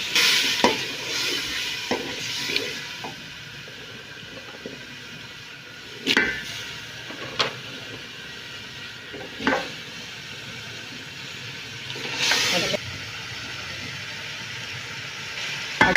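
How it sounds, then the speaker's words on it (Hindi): Potatoes fry in a hot pan for Pakistani egg-and-potato curry, with a steady, fairly loud sizzle broken by sharp spoon-scraping strokes, several close together early on and a few spaced out later. "थोड़ी देर इसको भूनना है"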